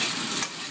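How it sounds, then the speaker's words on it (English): Onions hitting a hot wok in a chicken teriyaki stir-fry give a steady, close hiss of frying with a brief crackle partway through. "Dropping the onions into the wok brings down the temperature slightly"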